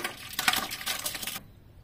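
Cooking oil pours into a blender cup holding fish for salt cod fritter batter, a close, splashy liquid stream that runs for over a second and then stops abruptly.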